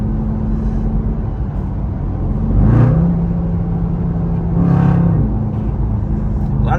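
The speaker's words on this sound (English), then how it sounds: "is the drone when you're driving crazy? Because I do have a mid muffler delete." A widebody Dodge SRT Durango with a mid muffler delete cruises in traffic, a steady low exhaust drone close inside the cabin, swelling twice with brief throttle rises.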